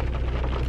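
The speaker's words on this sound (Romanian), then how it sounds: "Plouă, de asta și auziți." Rain drums steadily on the roof of a parked car, heard from inside the cabin as a dense, close, even patter with no talking.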